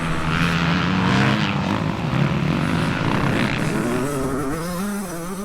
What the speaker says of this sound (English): An all-out two-stroke drag race here.